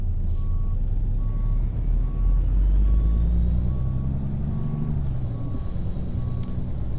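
A Kenworth T600 truck backing up in American Truck Simulator sends out steady, evenly spaced reversing beeps over a deep, continuous diesel engine rumble, with a brief air-brake hiss partway through.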